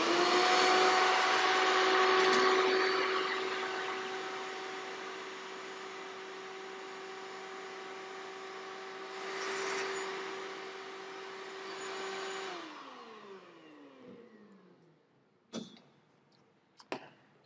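A vacuum cleaner runs with a steady loud whine and roar, dips briefly, then spins down as it is switched off, followed by a few sharp clicks and knocks.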